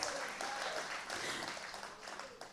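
An audience at an International Women's Day celebration applauds, a fairly faint and steady patter of clapping heard from a distance, with some indistinct voices mixed in beneath it.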